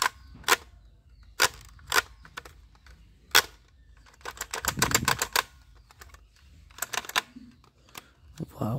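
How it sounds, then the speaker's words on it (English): An electronic soft bullet toy gun fires in sharp, separate clicks and snaps, a few spaced singles followed by a quicker burst of repeated shots, close and crisp with quiet gaps between. "Wow, this is electronic soft bullet gun."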